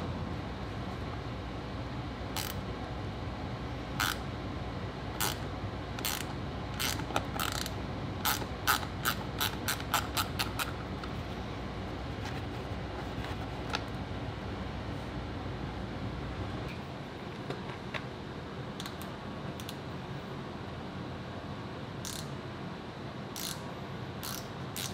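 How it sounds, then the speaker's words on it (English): Hand ratchet tool with screwdriver bits clicks as it turns screws, sharp rapid ratcheting bursts that quicken into a fast run, then slower scattered clicks over a faint steady background hum. "I like to use this thing here. It's a ratchet, basically."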